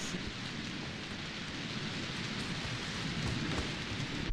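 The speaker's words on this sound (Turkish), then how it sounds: "yağmur başladı" Steady, dense rain pours down with a broad hiss and low rumble underneath, continuous and fairly loud, no voices.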